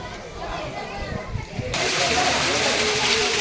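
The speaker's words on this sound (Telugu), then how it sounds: "ఇలా వాటర్ వస్తూ ఉంటుంది," Water flows out at Yaganti temple, issuing from a carved Nandi's mouth. A soft trickle is heard first, then a louder, steady rushing hiss of running water comes in partway through.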